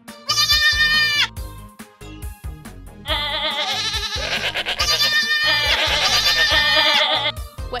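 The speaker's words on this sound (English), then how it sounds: "Mountain goats." Mountain goats bleating loudly and close, several wavering cries in quick succession with gaps between, set against light background music.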